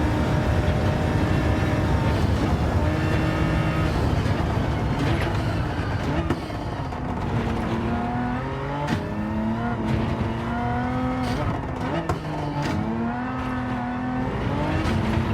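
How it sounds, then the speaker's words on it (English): A race car engine in Gran Turismo 7 screams loudly through second gear, its pitch climbing and dropping through several rev-outs and shifts, dense and sustained with no talk over it. "Oh, I just have to hear this again. It's the rev out 2nd gear."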